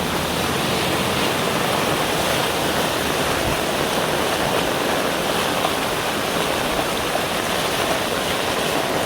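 Floodwater pours across a submerged road in Ashagad, Dahanu, a loud, unbroken rushing wash that stays steady and close throughout, with no speech.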